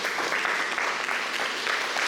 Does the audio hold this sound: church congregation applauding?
yes